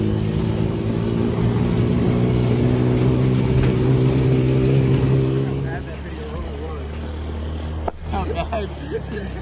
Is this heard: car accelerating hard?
yes